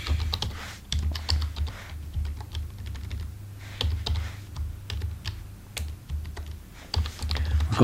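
Fingers type on a computer keyboard in close, irregular bursts of clicky keystrokes over a low background hum.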